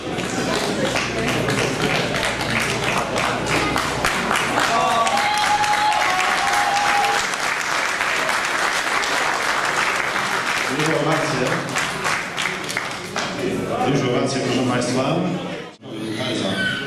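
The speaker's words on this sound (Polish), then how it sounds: "Dużo brawa." Sustained audience applause at a hill climb race award ceremony in Korczyna, dense steady clapping from a crowd that runs the length of the clip, with an announcer's voice over it and a brief drop near the end.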